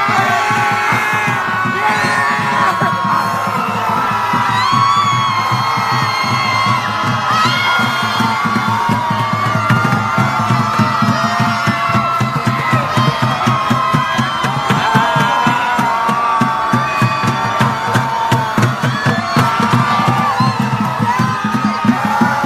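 A large crowd of protesters screams and shouts together in a recording, a dense, loud, unbroken roar of many voices with whoops and yells that holds steady for the full stretch without pause.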